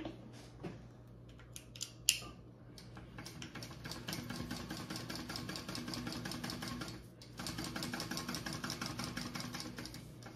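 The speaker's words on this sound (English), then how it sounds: "I'm going to sew around that" A sewing machine stitches a fabric bag, a steady mechanical whirr that runs, pauses briefly, then resumes, preceded by a few sharp clicks and handling noises.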